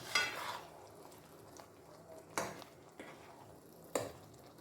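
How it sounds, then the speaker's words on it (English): Peppers and ponmo fry in a pot while being stirred, with a soft continuous sizzle under four or five sharp scraping clinks of the spoon against the pot, spaced a second or so apart. "So I'll fry these peppers for 5 minutes. I'll add in the cleaned Ponmo now. And I'll stir in."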